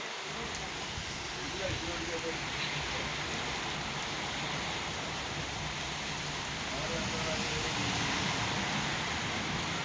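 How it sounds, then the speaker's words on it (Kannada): Steady rainfall hisses evenly throughout in the Madikeri area, a soft continuous patter with a faint low rumble beneath and no clear voices. "ಮಡಿಕೇರಿ ಭಾಗವಾಗಿ ಸ್ಟಾರ್ಟ್ ಆಗಿಬಿಟ್ರೆ ಮಳೆ ಬಿಡೋದಿಲ್ಲ"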